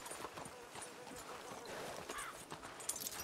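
Horse hooves clip-clopping in Red Dead Redemption 2 Online, a steady stream of quiet hoofbeats running the whole time under faint background chatter.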